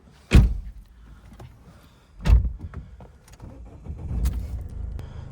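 Power-folding side mirrors on a used car with about 78,000 on the odometer whir shut and open, two short close motor bursts separated by quiet, followed by softer clicks and low rumbling handling noise.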